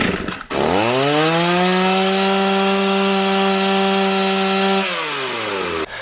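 Stihl 028 AV chainsaw after a carburetor rebuild, revving up sharply and holding a loud, steady wide-open howl for about four seconds before dropping back toward idle, heard close up with no talking.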